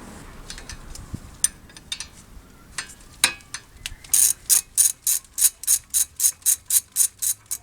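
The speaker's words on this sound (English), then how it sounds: "I'm just using a socket wrench" Socket wrench ratcheting on brake caliper bolts of a 2008 Ford Fusion during a front brake pad job, a steady run of about fourteen crisp, loud clicks in quick rhythm after scattered handling knocks.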